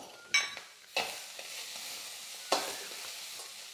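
A spoon scrapes around a pan as grated coconut is stirred into karamani sundal, with three distinct strokes over a soft, steady frying sizzle.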